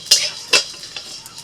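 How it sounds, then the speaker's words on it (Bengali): Whole dried red chillies, cardamom, cinnamon, cloves, peppercorns, coriander and cumin seeds dry-roasting in a hot kadai off the flame give two sharp scraping clinks followed by faint crackles and light rattles, close and quiet. "এতটাই কড়াইটা গরম হয়ে গেছে যে এখানেই দেখুন ভাজা হয়ে যাচ্ছে"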